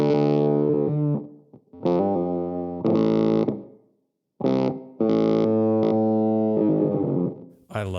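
Electric guitar chords through a Gatekeeper gating pedal with distortion, bursts of sound that cut off abruptly into silence and start again in a choppy stop-start rhythm, loud and close.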